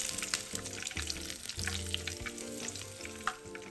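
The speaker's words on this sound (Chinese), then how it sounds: "油炸嫩豆腐，初下锅不翻动，要更小心处理，避免炸裂。" Soft tofu deep-fries in oil with a soft, continuous bubbling sizzle and scattered pops, fairly quiet and close, with a low hum underneath.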